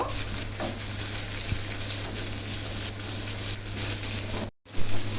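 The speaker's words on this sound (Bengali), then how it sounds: "এক কাপ পেঁয়াজ কুচি পেঁয়াজটাকেও একটু সতে করে নিব" Chopped onion sautés in a pan for malai kebab, a steady close sizzle with stirring scrapes throughout, broken by a brief dropout near the end.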